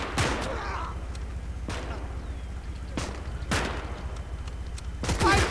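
Enemy gunfire in the World War II strategy video game Gates of Hell arrives as spaced, sharp single shots and cracks, several loud reports separated by brief pauses over a low steady rumble.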